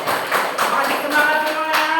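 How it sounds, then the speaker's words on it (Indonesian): A group of people clapping together after a class activity session, a brief burst of dense, steady hand claps lasting a couple of seconds, close and fairly loud. "Tepuk tangan untuk kita semuanya."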